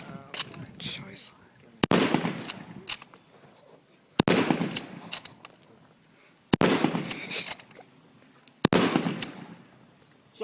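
Five sharp rifle shots from a WW1 Lee Enfield at a range, fired at a relaxed pace roughly two seconds apart, each a loud crack with a brief echoing tail, with someone talking quietly between shots.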